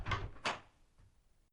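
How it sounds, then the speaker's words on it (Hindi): Two dull knocks sound on a wooden door, close and fairly quiet, followed by a faint thump and near silence. "तभी दरवाजे पे किसी की दस्तक होती है।"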